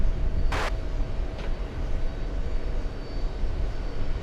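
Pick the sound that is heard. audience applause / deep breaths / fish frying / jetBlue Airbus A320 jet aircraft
jetBlue Airbus A320 jet aircraft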